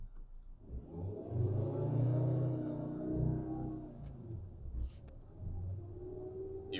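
A manual car engine revs up as the clutch is released: a low rumbling hum swells and holds, then eases off, with faint clicks near the end.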